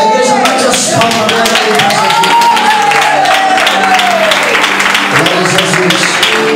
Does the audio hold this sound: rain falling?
no